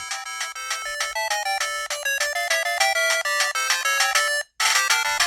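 A BittBoy Pocket Go V2 handheld game console plays a bright, fast ringtone-like chiptune melody very loudly from its built-in speaker, then cuts off briefly before a burst of noise.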